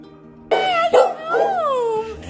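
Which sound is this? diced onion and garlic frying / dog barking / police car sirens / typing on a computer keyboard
dog barking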